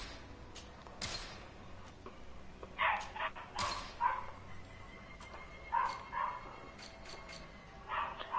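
A small dog barks in several short, sharp yips spread across the stretch, moderately close and fairly quiet, with a faint background hum and no talking.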